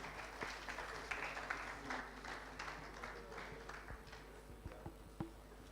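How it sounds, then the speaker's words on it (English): Audience applause at a media excellence conference and awards event in West Africa, a faint, distant patter of many hands clapping that runs steadily through the moment and tapers slightly toward the end. "can we please give them another round of applause?"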